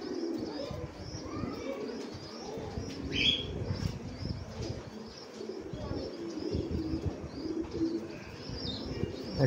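Pigeons at a pigeon farm, kept for fostering with pairs and chicks nearby, coo steadily in soft overlapping low calls, with occasional chirps and a brief flutter of wings, close and continuous.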